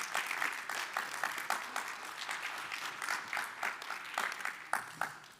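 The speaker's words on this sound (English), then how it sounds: "So let's give them all one big round of applause." An audience claps steadily in applause for the winning quiz teams, a dense, sustained clatter of many hands heard close, with no talking.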